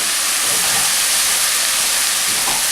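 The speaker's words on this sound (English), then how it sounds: "So now what I'll do is I'll add a good half a cup of sherry." Half a cup of sherry hits a hot pan of wild mushrooms, making a loud, continuous, close-up hiss of sizzling with steady intensity and no talking.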